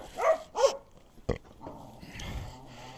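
A dog making noise near a spot where wooden pallets are being handled: two short yelps, then a sharp knock and a low rumbling grunt, faint and close, with no talk.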